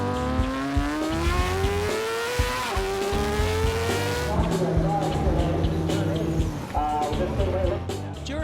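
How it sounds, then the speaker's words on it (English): A superbike screams around a race track, its engine note rising through the gears and shifting loudly and close, while a voice narrates over it. "Clint heads back out to evaluate the Superbike's front-end response"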